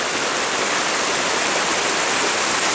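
A river flows beside a breakfast picnic spot on the bank, a dense, steady rush of water filling the whole stretch, loud and close with no talk.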